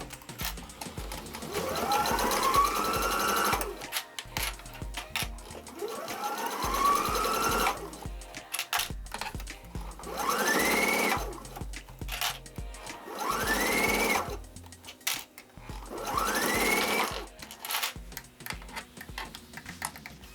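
Sewing machine stitching bar stool upholstery fabric along a curved seam, running in about five steady bursts of rapid mechanical whirring, each a few seconds long with short pauses between, close and fairly loud with no talking.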